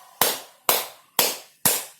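Hands clap firmly four times in an even, unhurried rhythm, each sharp smack close and crisp with a short decay, performed as a healing exercise for back and joint pain.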